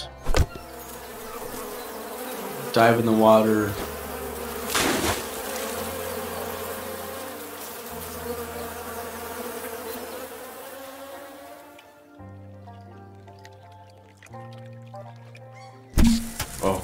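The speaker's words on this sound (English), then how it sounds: "Oh, yeah, the bees!" Buzzing bees in the video game Down In Bermuda form a steady insect drone over ambient game music, with a short spoken line early on and sharper game effects at the start and end.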